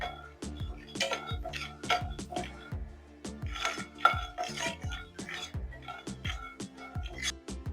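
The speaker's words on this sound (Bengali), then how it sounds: "বন্ধুরা দেখুন, আমি বাদামটা ভেজে নিচ্ছি।" Peanuts dry-roasting in a pan for a Bengali cabbage dish, with a spatula stirring and scraping them in a steady, rhythmic rattle of close clinks and scrapes throughout.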